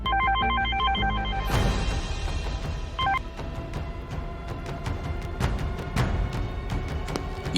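A telephone rings indoors in a Malayalam TV drama scene: a loud, repeated electronic ring pattern opens the sound, then a dramatic music swell with sharp hits takes over and the ringing fades beneath it.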